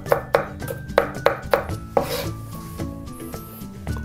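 A knife chops an onion into cubes sharply on a cutting board in a quick series of strikes, then slows to lighter scraping and clatter, close and without speech.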